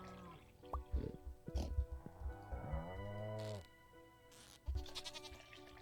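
Goats bleating on a farm in the video game Stardew Valley, several synthetic calls in close succession with a long drawn-out bleat in the middle, fairly near and clear with no talking over them.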